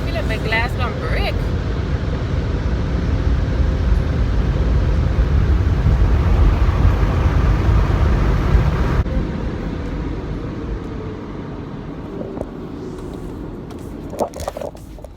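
A touchless automatic car wash blasts soap, water and air over a car in a loud, continuous rushing spray heard from inside the vehicle, easing somewhat toward the end with a few clunks.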